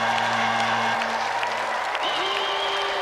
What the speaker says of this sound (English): So let's give another round of applause for Clive Barton and Richard Walkling.